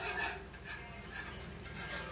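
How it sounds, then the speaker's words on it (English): A whisk working a roux in a pan on the stovetop for mac and cheese, soft rhythmic scraping and rubbing strokes, faint and close, continuing steadily. "So now we're just whisking."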